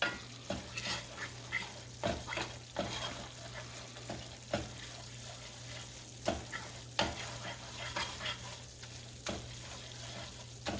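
A spatula stirs and smashes gravy in a hot cast iron pan, repeated scraping knocks at an irregular rhythm over a low sizzle and steady background hum, no voices.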